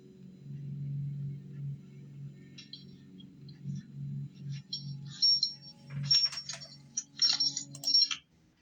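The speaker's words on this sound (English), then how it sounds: "A woman is shown trying multiple different keys to get into the house" Metal keys jingle and scrape as a woman tries several different keys in a house door lock, a faint low hum underneath giving way to sharp clicking and rattling bursts toward the end.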